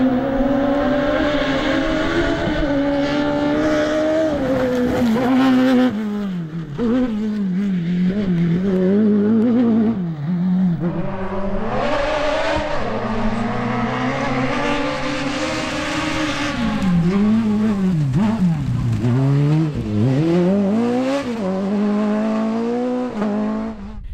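Off-road rally racing cars, including a Rivet Suzuki, at an all-terrain rally, engines roaring loud and continuous with rising and falling revs as they pass and shift.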